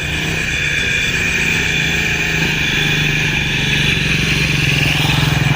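A motorcycle engine runs close by, a loud, continuous buzzing drone with a steady pulsing idle rhythm that holds throughout without fading.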